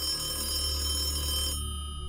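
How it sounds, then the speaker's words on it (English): A home landline telephone rings steadily and loudly for about a second and a half, then cuts off abruptly, leaving a low hum behind. "the home phone rings."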